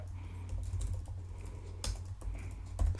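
Typing on a computer keyboard while writing JavaScript in a browser console, a run of quick close keystrokes over a low steady hum, with a sharper key hit near the end.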